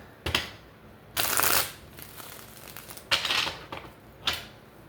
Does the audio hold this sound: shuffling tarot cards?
yes